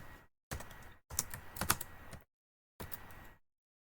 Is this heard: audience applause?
no